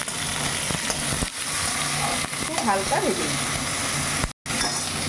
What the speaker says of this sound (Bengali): সেই টমেটোটাও আমি দিয়ে একসাথে আমি খুব হালকা ভেজে নেব